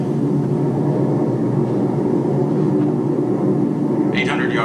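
Airplane engines circle in a radio drama sound effect, a loud, continuous droning rumble that holds steady throughout, with a brief higher whine near the end.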